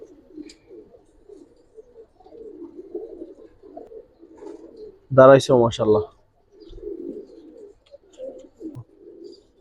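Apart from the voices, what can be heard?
pigeons cooing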